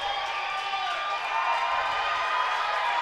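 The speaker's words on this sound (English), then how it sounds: "Large and loud crowd here at the Xfinity Roller Sports Arena." Large, loud crowd at an indoor roller speed skating championship quad final arena, a steady dense roar of cheering and shouting that swells slightly midway and holds throughout.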